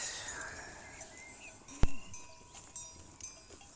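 A herd of Aleppo goats and Romanov sheep grazing on pasture, faint and distant, with a single sharp clank like a bell near the middle amid soft rustling.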